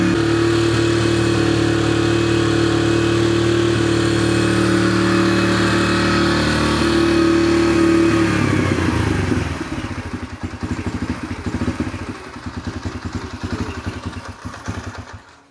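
A Yamaha TTR 125 dirt bike runs just after a carburetor rebuild, its engine droning loud and steady close by, then settling into a lumpy, pulsing idle with a light mechanical clatter; no talk over it.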